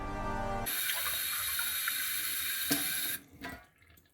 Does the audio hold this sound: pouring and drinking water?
yes